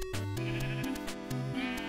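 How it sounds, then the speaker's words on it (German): A blue sheep in the Minecraft video game bleats in short wavering calls over steady, tonal in-game background music, fairly close and clear. "Hallo, blaues Schaf."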